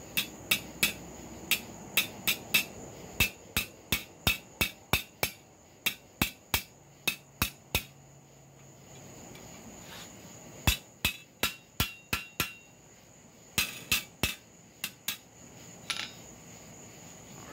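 Small 1.5 pound hammer striking a copper and steel spatula, sharp metallic blows in quick bursts of rhythmic taps separated by short pauses, close and bright, with no talking.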